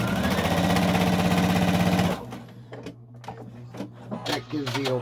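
A sewing machine runs a straight stitch on a fabric mask, a loud steady mechanical whir for about two seconds, then stops, leaving softer clicks and handling noises of fabric being moved.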